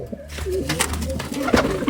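A Miro pigeon coos softly close by, a couple of low throaty calls over faint background noise.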